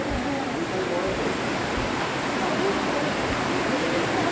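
Water running across a wet road inside a limestone cave in Meghalaya, a steady broadband rush that fills the whole stretch evenly, close and continuous with no pauses, with a voice faintly present underneath the flow.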